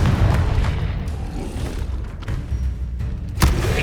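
A Confringo explosive spell in Hogwarts Legacy goes off as a deep rumbling boom, with a sharp blast near the end against a low, noisy game background.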